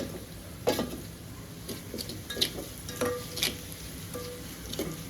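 Fried onions with turmeric being stirred in a pan for kanda poha, a steady sizzle broken by several sharp scraping clicks of the spoon, close and alone.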